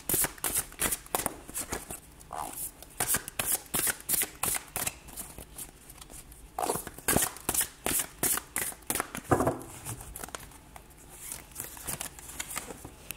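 Oracle cards are shuffled for a tarot-style reading, making a close, steady series of quick riffling and flapping bursts in an even rhythm, with brief pauses between rounds and no talk.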